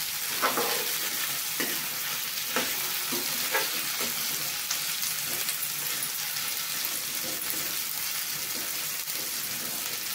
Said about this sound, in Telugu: బెండకాయ ఫ్రై చేసుకున్నాం కదా, ఇప్పుడు ఒక సగం వేసాను